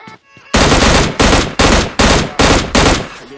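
M60A4 machine gun firing in the mobile shooter PUBG Lite, six loud, close, sharp bursts in quick succession, each a rapid rattle of shots with brief gaps between.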